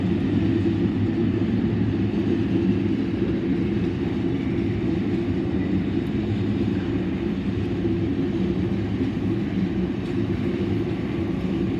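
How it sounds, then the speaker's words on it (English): An extremely long unit ethanol freight train of well over 100 cars rolls past with a pusher locomotive, giving a loud, steady, continuous low rumble and wheel noise throughout, with no voices. "This is extremely long unit ethanol train, well over 100 cars."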